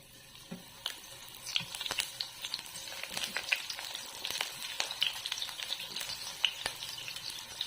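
Ingredients for ginataang manok fry in a hot pan with a continuous crackling sizzle, sharp pops and spatters scattered throughout, stirring movements audible up close.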